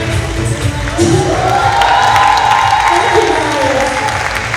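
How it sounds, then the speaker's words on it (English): Audience applause and cheering after a dance performance at a dance and theatre school show, loud and sustained throughout, with a few shouts and voices mixed into the crowd. "Please big round of applause for that."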